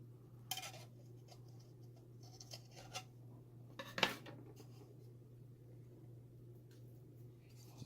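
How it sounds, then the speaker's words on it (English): Close, quiet cutting of material for an RGB block for an ASUS Vega 64 Strix graphics card: a handful of sharp snips and small clicks scattered across an otherwise still room. "I'm gonna cut this back a little bit."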